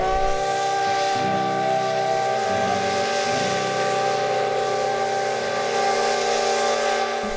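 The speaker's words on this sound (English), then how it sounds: "suddenly, all 3 whistles explode" Three steam locomotive whistles blow together on the Nevada Northern Railway in a loud, sustained chord, shifting in pitch, over a continuous hiss of steam with no talking.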